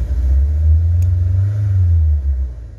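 A Renault Sandero Stepway engine running on CNG gives a deep, steady rumble that swells as it is revved, close and loud with no voices.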